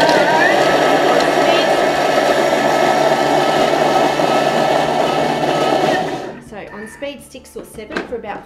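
A food processor blends nuts into a chunky nut butter with a loud, steady whirring grind that runs for about six seconds, then cuts off as a voice speaks over the quieter aftermath.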